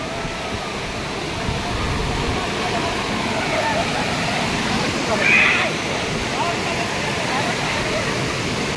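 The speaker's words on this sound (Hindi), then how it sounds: "पानी देख रहे हो आप कितना फ्लो हो रहा है, अच्छा खासा ओवरफ्लो हो रहा है" Heavy monsoon overflow pours over Bhushi Dam as a loud, steady broadband rush of water, with people talking faintly beneath the roar.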